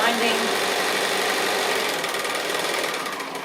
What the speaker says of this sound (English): So just sewing close to the fold, making sure that the mesh is tucked up right inside that piece of